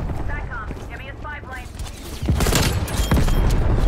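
M16 fire in Call of Duty Black Ops Cold War, several loud sharp bursts cracking close by in the second half, after someone talks over the game's ambient sounds.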